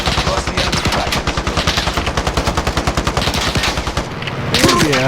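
Rapid automatic gunfire from the video game Call of Duty Warzone, a loud rhythmic burst of evenly spaced shots lasting about four seconds before a brief pause and a final flurry.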